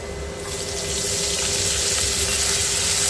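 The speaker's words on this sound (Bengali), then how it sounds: "এর মধ্যে এখন সামান্য একটু পানি দিব যাতে পেঁয়াজটা না পুড়ে" Water poured into a pan of frying onions while cooking a koi fish curry with tomato swells into a loud, steady hiss within the first second and holds that continuous sizzling rush to the end, with no talking.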